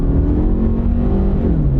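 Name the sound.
SUV accelerating on the road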